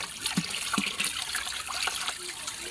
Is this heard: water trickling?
yes